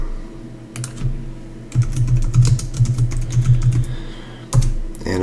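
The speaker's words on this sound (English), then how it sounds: "So there, you can type in your panel legend." Rapid keystrokes on a computer keyboard while a panel legend is entered in electrical panelboard calculation software. Clattering bursts of typing at close range with short pauses between runs.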